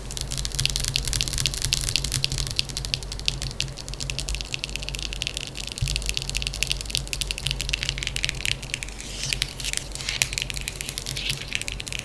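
Continuous rough scratching over the ridged side of a plastic mat, close and steady, with a dense crackly texture and no talking.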